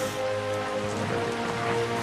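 Monsoon rain pours steadily in Burma near Rangoon during wartime, a dense, even hiss of drops on surfaces with no pauses, loud and close throughout.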